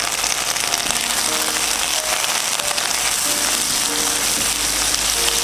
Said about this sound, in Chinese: 热锅下油，等油热后放入2片生姜，翻炒2下，再倒入干辣椒炒一下